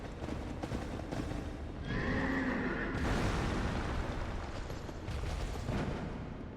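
Loud video-game horse neighing and whinnying over dense, continuous combat noise, with rumbling effects layered throughout.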